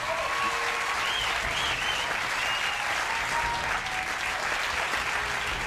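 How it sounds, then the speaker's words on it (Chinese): Studio audience at an American television talk show breaking into sustained, loud applause and cheering, a dense wash of clapping that fills the whole stretch without letup. "看得观众们纷纷鼓掌叫好"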